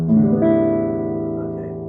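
Guitar open strings in standard tuning ring out together as one sustained chord, bright and close, slowly decaying over a couple of seconds.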